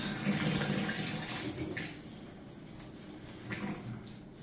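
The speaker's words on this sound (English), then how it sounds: "Water's falling from the top, from the shower head now." Water sprays steadily from a shower head during plumbing work, a soft continuous hiss and patter that stays fairly quiet and even.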